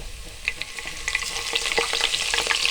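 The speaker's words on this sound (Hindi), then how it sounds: "लहसुन डाल के हम इसको भून देंगे।" Garlic frying among browned onions in a pan for khichri dal mash, a continuous crackling sizzle dotted with quick clicks and spatula strokes that grows denser toward the end, close up with no talking.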